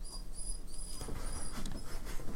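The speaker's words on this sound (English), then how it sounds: "You might also hear James's dog." A dog in a podcast recording room gives a faint, thin whine over a steady room hum, with a few soft shuffles of movement nearby.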